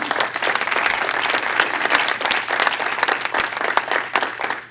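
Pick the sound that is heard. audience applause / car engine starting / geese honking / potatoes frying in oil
audience applause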